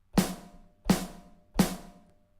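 Three snare drum hits from a Cubase drum kit, each a sharp bright crack with a ringing body and noisy decay, spaced roughly 0.7 seconds apart with no voices.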